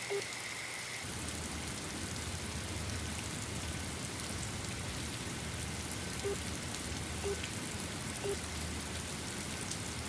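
Steady rain falls throughout in a city setting amid traffic, a dense hiss of raindrops on surfaces with a few faint tones rising through it, continuous and fairly close.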